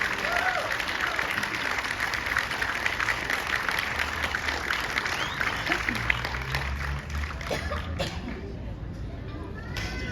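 A crowd at a June 21 solstice gathering applauds a young Inuit throat singer, Sierra Segalowitz, with a long, steady patter of clapping; a voice speaks briefly near the end as the applause thins.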